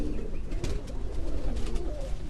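Pigeon cooing from a rooftop pigeon loft, a steady low murmur of soft coos continuing throughout at moderate distance, with faint outdoor background noise.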